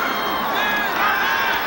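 A big college football crowd roars steadily throughout at the home of the Gamecocks, South Carolina against Florida State in 1988, a dense, sustained wash of cheering and shouting with no break.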